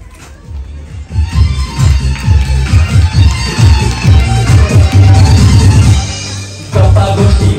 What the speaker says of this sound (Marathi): जोरदार टाळ्या वाजू द्या सर्वांच्या